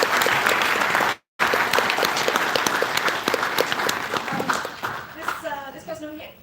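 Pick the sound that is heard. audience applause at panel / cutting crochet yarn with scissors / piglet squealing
audience applause at panel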